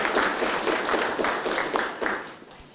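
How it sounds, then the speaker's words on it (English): Audience applause at a university ROTC battalion's 50th anniversary celebration, steady clapping filling the hall for nearly three seconds and tapering slightly toward the end. "so please give yourselves a round of applause."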